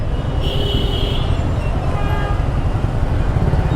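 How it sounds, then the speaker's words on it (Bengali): Rumbling traffic and rail noise at a level crossing as a train approaches, with a steady low roar and a brief high warning tone early on, loud and continuous throughout. "আচ্ছা ট্রেন আসবে"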